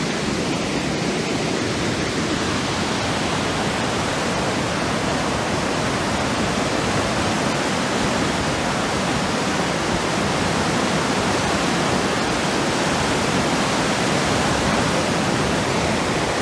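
River water rushes under Rainbow Bridge in the Hunza valley, a loud, steady, broadband roar like a fast mountain torrent that continues unbroken throughout with no voices.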